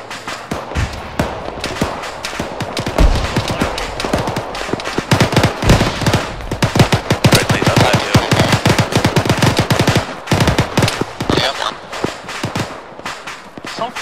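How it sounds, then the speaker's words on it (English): Rapid gunfire in the Arma 3 video game, dense automatic bursts and single shots cracking almost continuously for over ten seconds, loud and close, with a voice faintly underneath. "Someone's shooting at us from elsewhere"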